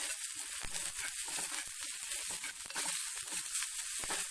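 Finely chopped onion sautéing in a pan for Kerala pulingari, a soft continuous sizzle with occasional faint stirring scrapes, quiet and close.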